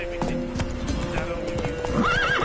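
A horse named Roach clip-clops with several distinct hoof strikes at an uneven walking rhythm, close by. A rising whinny near the end, with a voice speaking over it.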